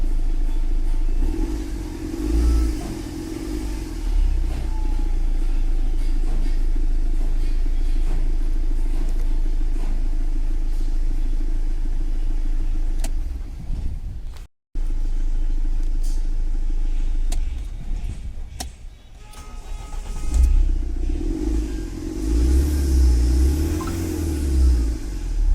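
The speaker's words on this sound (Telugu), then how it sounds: "ఇప్పుడు ఇంజన్ సౌండ్ కూడా చూడండి ఫ్రెండ్స్" A 2014 Mahindra XUV500 diesel engine idles with a deep steady rumble, briefly cuts out, then returns and climbs into a couple of louder revs before settling, heard close with no talk.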